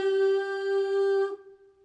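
A sampled choir voice from the Space Age Voices library sings one sustained medium-length note, steady and clean for just over a second, then releases and fades quickly, alone with no talking.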